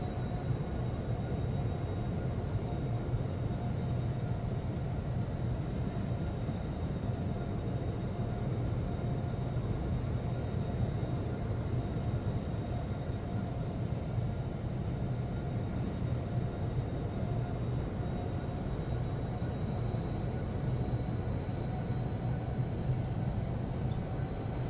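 A simulated airliner taxis to its parking stand at Amsterdam in Infinite Flight, a steady, continuous low engine rumble and hum holding at an even level from start to finish with no other sounds.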